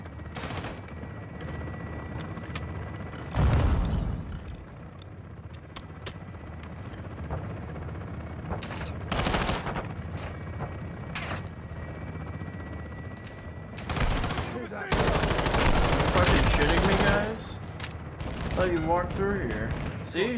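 Gunfire from the Call of Duty: Modern Warfare 2 campaign, with bursts of rifle and machine-gun fire and heavy blasts scattered through a battle din. A rotor-like rumble runs underneath and a long dense fusillade comes near the end.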